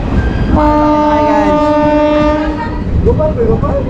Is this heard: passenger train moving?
yes